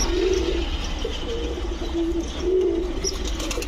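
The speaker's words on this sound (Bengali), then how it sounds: "সাদা কবুতর এত সুন্দর করে ডাকতেছে" A white pigeon coos close by in soft, repeated low calls, several in a row, with no other sound competing.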